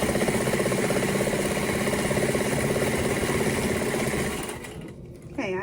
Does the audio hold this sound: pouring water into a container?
no